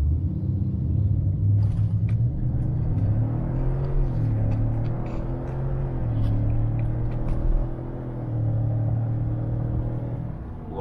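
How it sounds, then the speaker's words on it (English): A car running on premium fuel pulls hard from a stop in a 0 to 60 run with the AC off, its engine droning and rising through several shifts as a steady interior rumble. "with premium fuel in the tank, we're gonna test the 0 to 60"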